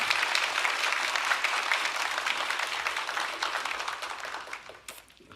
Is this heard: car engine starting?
no